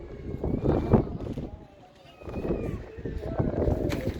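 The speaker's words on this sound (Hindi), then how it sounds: "हवा बड़ी तेज़ चल रही" Strong, cold wind gusts across an open outdoor spot in Lahore under darkening clouds, with buffeting microphone rumble that swells and fades around someone talking.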